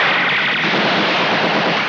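A dense burst of loud gunfire, continuous and crackling, filling the whole moment at close range.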